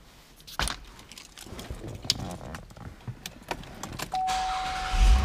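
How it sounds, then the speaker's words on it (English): A power seat motor adjusts in a Chevrolet Impala with a leather and suede interior, heard close inside the cabin: a few clicks and handling knocks, then a steady electric whir for the last second. "Power seats."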